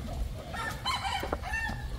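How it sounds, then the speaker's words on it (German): A rooster perched up high crows loudly in a hill tribe village in Thailand, one drawn-out call close by over steady background noise. "Hahn sitzt hier oben und schreit"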